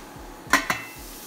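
A lid goes onto a pot of sweating leeks with two quick metallic clinks, close and brief, against quiet kitchen background.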